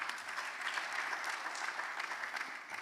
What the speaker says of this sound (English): So a round of applause for Ms. Moffett, please.